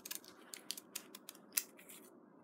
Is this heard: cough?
no